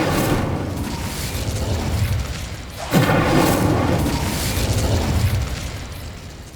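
Incendio fire spell cast in the Hogwarts Legacy video game, a loud fiery burst with a sharp onset midway, followed by a sustained roaring blaze that fades toward the end.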